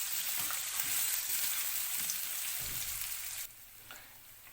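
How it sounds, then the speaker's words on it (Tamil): Crushed garlic and ginger sauté in hot oil in a pan, a loud, steady, close sizzle with faint stirring ticks that drops abruptly to a softer crackle near the end. "இதோட பச்சை வாசனை போகிற வரைக்கும் நல்லா வதக்கிக்கோங்க."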